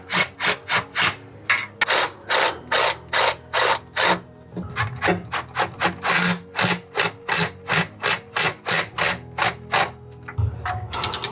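Rapid ratchet clicks in repeated bursts, close and loud, as a ratchet tightens transmission pan bolts on a 2007 Dodge Ram during a transmission fluid and filter change.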